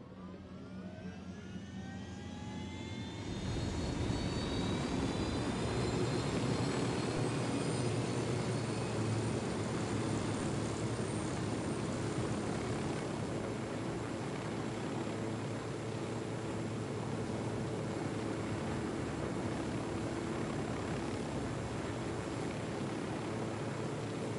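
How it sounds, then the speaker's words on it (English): A helicopter in a video game spools up from a thin rising whine into a loud, steady rotor and engine roar. The roar holds close and constant for over twenty seconds, with no voices. "We got your chopper."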